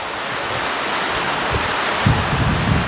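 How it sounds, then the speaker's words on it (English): Sea waves roll and break on the coast in steady wind, a continuous broad wash of surf with wind buffeting the microphone and a slightly heavier surge near the end. "Hear the sea?"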